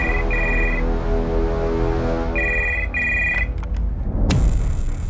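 A telephone rings in repeated double bursts of a bright electronic trill, steady and fairly loud, over a low background hum with a brief click near the end as the call connects.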